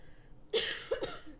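A single sharp cough, followed quickly by a second smaller cough, close to the microphone in a quiet room.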